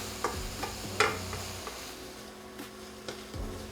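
Shrimp cooking in a pan for Cajun fried rice, with a steady low sizzle and scattered clinks and scrapes of stirring, close and moderately loud.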